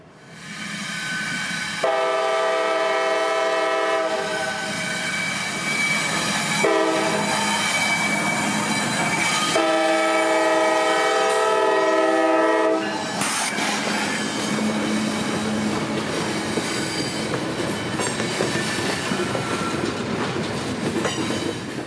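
A CSX freight train on the W&A line in North Georgia rumbles past with its horn blaring in long repeated blasts, followed by steady clattering of wagons on the rails.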